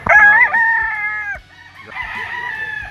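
A pure white Kelso gamefowl stag crows loudly nearby in a gamefarm setting, one long strained call followed by a softer, trailing second crow, with faint clucking and farm noise around it.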